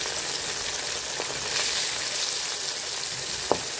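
Pieces of katla fish fry in a pan, giving a steady, close crackling sizzle with a faint clink of the spatula near the end.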